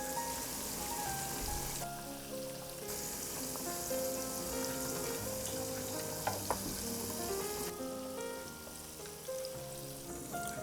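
Shrimp deep fry in hot oil, giving a steady close crackling sizzle with scattered pops and bubbling throughout, without talk.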